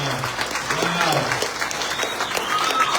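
Audience applause after a reverend's speech, sustained clapping from a crowd at a fairly loud level, with some voices mixed into it.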